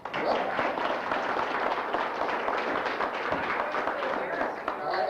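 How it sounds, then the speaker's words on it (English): An audience at a magic show applauds a volunteer, a dense, steady burst of clapping that holds for about five seconds with no break. "Give her a big round of applause."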